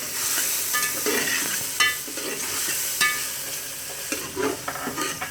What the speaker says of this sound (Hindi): मसाले को इसी तरह मिक्स कर लें।